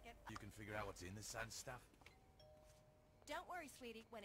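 A two-tone electronic doorbell chime in the video game Saints Row 2 rings once in a brief lull between bursts of talking, clear and steady with a short sustain.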